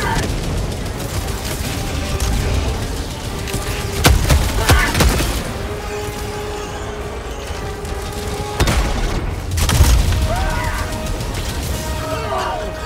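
An autocannon fires heavy, booming rounds in Helldivers 2, a few spaced blasts standing out loudly over ongoing battle noise and humming background effects.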